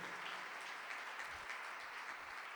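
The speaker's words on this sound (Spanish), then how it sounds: "Damos un aplauso para ellos, que lo oigan bien fuerte." A church congregation claps in a dense, even patter that holds steady throughout, sounding distant and fairly faint, with no voices on top.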